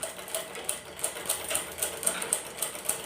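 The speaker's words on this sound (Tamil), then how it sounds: "தையல் பொறியை இயக்கி" A sewing machine stitches fabric in a steady rapid rhythm of mechanical clicks and whirring, close and alone with no talk over it.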